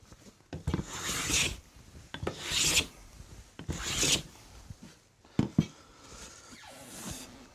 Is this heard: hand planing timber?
yes